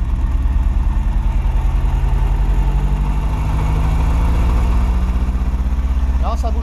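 A BMW 318is turbo engine fitted with big injectors runs with a low, throbbing note and is gently revved. People talk over the engine throughout.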